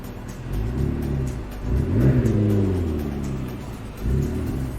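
A McLaren 650S sports car engine revs and accelerates close by, with a smooth rising whine and a brief louder surge midway.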